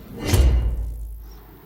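A room door swings and thuds shut once at close range as someone leaves, a single heavy knock followed by a fading low rumble, with no voices.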